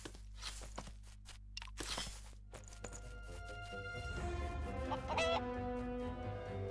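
Chickens cluck and a rooster crows amid crunchy footsteps and game music in the video game Craft the World, moderately loud.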